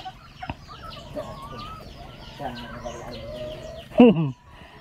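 Chickens cluck and chatter close by amid a farmyard, with a louder squawk near the end and quiet voices in the background.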